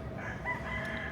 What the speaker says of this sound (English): So you can probably hear all the roosters in the background